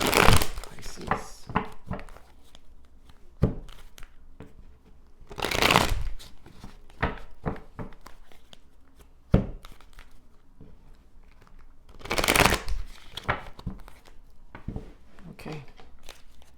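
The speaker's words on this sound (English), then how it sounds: "Okay, I'm going to shuffle a bit more." Cards being shuffled in several bursts of riffling and flicking, close and crisp, separated by quieter handling sounds.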